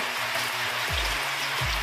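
Steady, dense hiss of monsoon rain falling close by, with a low droning hum underneath.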